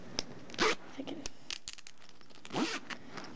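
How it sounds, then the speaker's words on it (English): A small zipper pocket on a school pencil holder is pulled open in a couple of quick rasping strokes, close and fairly quiet, amid light handling clicks and rustles. "open zipper pocket. Right there, so it's a little zipper pocket"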